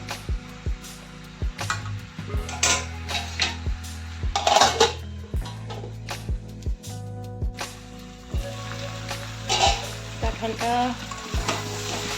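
Jackfruit and paneer curry is sautéed with spices in a pan, village style. Close, repeated spatula scrapes and metallic clinks ring out over a steady sizzle, with no talking.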